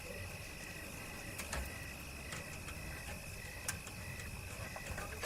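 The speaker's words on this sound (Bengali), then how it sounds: "কানে ভেসে আসছে শুধু ঝিঝি পোকার ডাক" Crickets chirp steadily on a quiet, empty night road, a faint continuous high-pitched trill with a few sharper clicks standing out, no voices.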